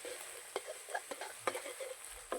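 Rice and egg being stir-fried in a pan, a soft continuous sizzle broken by repeated scraping stirs of a spatula, close and fairly quiet.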